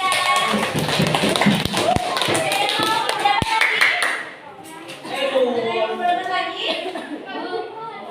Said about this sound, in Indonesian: tepuk tangan buat kelompoknya Amalia.